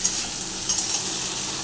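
Vegetables for an eggplant, potato and drumstick curry with lentil dumplings fry steadily in a pan, a broad continuous sizzle with faint scraping stirs and light clinks over it.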